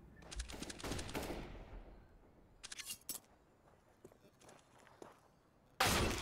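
Gunfire in Counter-Strike on Dust2 (BIG vs EG, BLAST Premier Spring Groups 2022): a loud opening burst, scattered quieter shots and clicks, then a sharp loud blast at the end.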